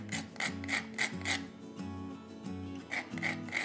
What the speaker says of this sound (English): we've got some fresh ground nutmeg to add in here too